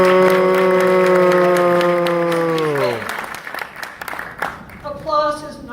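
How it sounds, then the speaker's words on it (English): Audience applause at a town hall meeting in Hermosa Beach, a steady wash of clapping heard under a sustained tonal hum that fades out midway, then thinner scattered claps with a brief tone near the end. "Applause is nice"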